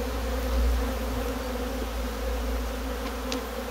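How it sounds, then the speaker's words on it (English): Agitated honeybees from an opened hive colony buzz in a dense, continuous drone close by, with a few individual bees whining past. "Bees becoming a little bit more irate now."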